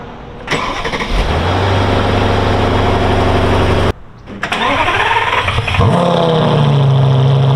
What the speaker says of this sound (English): Let's get these cars pulled out and get the CyberX pulled in.